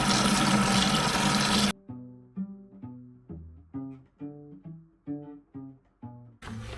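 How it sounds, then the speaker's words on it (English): Hot water gushes loudly from newly installed faucet lines into a slop sink for a moment, then cuts off, followed by a series of evenly spaced, muffled knocks. "This is my hot water first."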